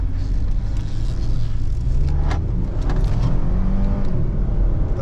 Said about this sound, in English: EcoBoost Turbo accelerating up. Very fast and powerful vehicle. Smooth, quiet acceleration.